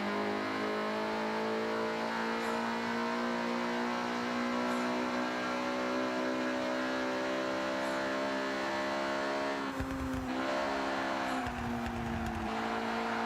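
A Honda H22 H-Series engine in a car in the racing game Forza Horizon 6 holds a steady, loud, droning rev, then dips and surges twice near the end as the throttle shifts.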